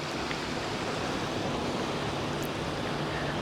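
Steady broadband wash of ocean surf on Anjuna Beach in Goa, a continuous even roar close by with no voices over it.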